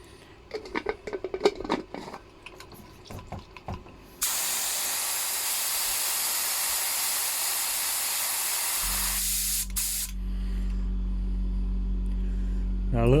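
A spray gun blows cleaning liquid through its nozzle from the paint tin in a sustained loud hiss of several seconds. Clattering handling noises come before it, and a low steady hum follows.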